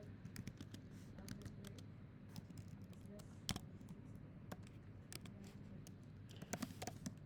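Computer keyboard typing while entering code during a class session: faint, irregular clusters of soft key clicks over a quiet room hum, with a few louder taps.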